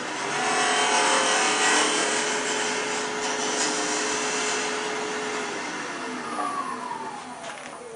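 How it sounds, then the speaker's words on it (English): A wood lathe spins while a tool cuts a tenon on an awl handle, a continuous loud whirring rush with a scraping, hissing edge that eases slightly toward the end, with no talking. "I'm going to go ahead and put a tenon on here"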